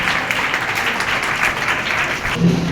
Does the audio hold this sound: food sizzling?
no